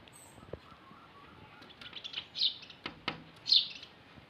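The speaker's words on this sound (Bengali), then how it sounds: "এনজয় করো এই পাখিগুলো খেলা।" Small birds chirp and tweet as they play, with scattered short calls that grow busier and louder toward the end, plus a few light flutters, close by in a quiet setting.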